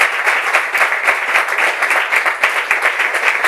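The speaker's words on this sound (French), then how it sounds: "on applaudit très fort toutes vos interventions." Close, loud clapping from a gathered audience applauding speakers' contributions, with individual claps audible in a brisk, slightly uneven rhythm throughout, with no talking over it.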